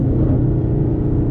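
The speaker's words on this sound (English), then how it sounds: "nail some downshifts to not have to use our brakes" A Ford Mustang GT engine rumbles loudly and steadily up close, revving through a downshift on a back road with a deep, continuous low growl.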